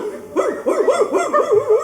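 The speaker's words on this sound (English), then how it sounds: "Off in the distance, we hear the furious barking of dogs," Hounds bark furiously in a radio drama, a rapid run of overlapping yelps and barks pouring out steadily for the whole stretch with no voices over them.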